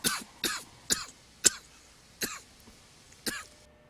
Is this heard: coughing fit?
yes